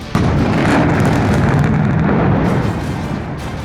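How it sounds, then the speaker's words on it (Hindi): A factory explosion booms suddenly, followed by a sustained heavy roar and rumble of falling debris that slowly fades. "जैसे ही धमाका होता है, फैक्ट्री का मलबा गिरने लगता है।"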